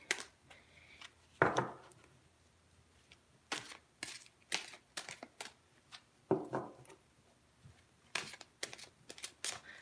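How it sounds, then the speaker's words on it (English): Tarot cards being shuffled by hand, a series of short, crisp riffling and tapping bursts at irregular intervals, close and fairly quiet, with soft handling sounds between them. "I'm going to shuffle one more good time."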